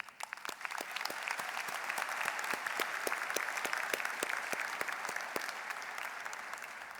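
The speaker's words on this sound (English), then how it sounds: "I request the audience to join me in applauding our graduates for their significant achievements." Audience at a university education faculty graduation ceremony applauds the graduates, steady dense clapping heard from a distance in a large hall, building slightly then holding even.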